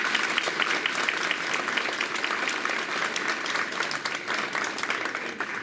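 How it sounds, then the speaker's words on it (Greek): A crowd at a political speech in Korthi, Greece gives sustained, dense applause, loud and continuous, tapering slightly toward the end. "αξίζει να αφιερώσετε ένα χειροκρότημα."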